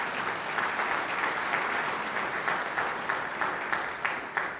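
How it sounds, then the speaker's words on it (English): A school board meeting audience gives a sustained round of applause for honored district athletes, a fairly faint, even patter of many hands clapping for several seconds with no talk over it. "round of applause."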